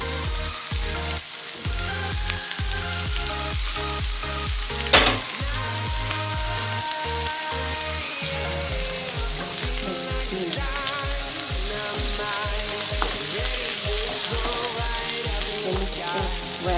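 Zucchini and onion frying in a pan, a steady loud sizzle running throughout, broken by regular scraping and stirring knocks and one sharp clatter partway through.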